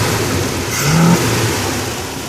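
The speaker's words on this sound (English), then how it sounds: "The Chevrolet 283 small block V8 is a very high revving engine." A Chevrolet 283 small-block V8 in a 1962 Chevrolet C10 pickup revs briefly and loudly up close, a dense rumbling surge that swells and eases within a couple of seconds.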